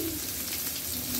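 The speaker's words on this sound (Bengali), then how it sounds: "আলুগুলো একটু লাল লাল টাইপের করে ভেজে নিছে" Potatoes frying in a pan for jackfruit curry, a soft steady sizzle heard alone and fairly quiet.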